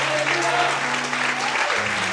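A church congregation claps in praise during a sermon, a dense, steady applause with sustained musical tones beneath it and voices mixed in.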